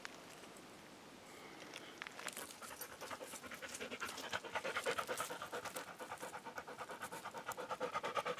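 A dog pants rapidly and steadily at close range outdoors at a quartz mine, growing louder and more rhythmic as it nears, with faint footsteps and rustling around it.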